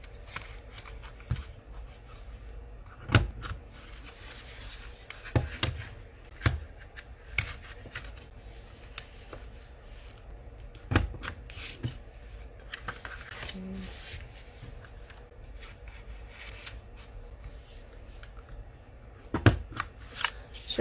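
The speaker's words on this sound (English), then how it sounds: "But figured I might as well use my punch that I found." Corner punch rounding paper corners for a mini album, several sharp clicks and crunches scattered over quiet rustling of paper and handling.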